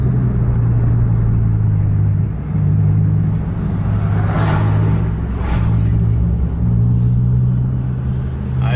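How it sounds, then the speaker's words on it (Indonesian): A truck and other traffic on a busy road at night, a loud, continuous engine rumble with steady low drone, swelling passes and a hiss of tyres and wind, no talk. "Ada truk lagi, cukup padat malam ini."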